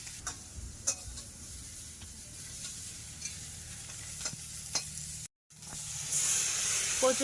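Tree crab frying in a pan with taro flowers and chopped onion: a steady soft sizzle with occasional crackles and the clink of stirring, one brief drop in sound, then a louder hiss.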